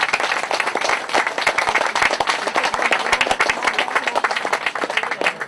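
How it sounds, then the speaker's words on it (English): An audience at a Strokestown show claps for the show committee and helpers, a lively, close burst of many hands with sharp individual claps standing out, continuous throughout. "give a round of applause to our show committee and everybody that helped"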